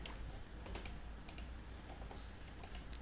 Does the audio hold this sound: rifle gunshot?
no